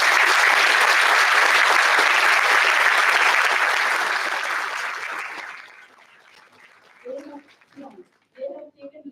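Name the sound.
audience applause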